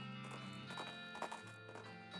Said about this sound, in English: I always forget about that weird drunk horse.